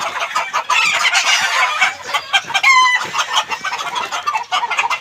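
Backyard chickens, including a hen, in a flurry of loud close clucking and squawking, with a rooster's crow rising partway through amid the commotion.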